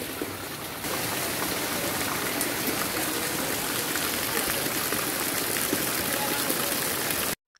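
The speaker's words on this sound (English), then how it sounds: "it already started raining so heavily" Heavy rain pours down on an island, a dense, steady hiss that holds loud and unbroken for several seconds before stopping abruptly.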